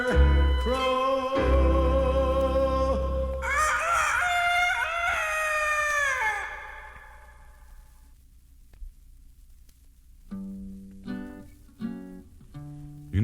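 A rooster crows loudly with a long, wavering call, then a few shorter clucking notes follow after a pause.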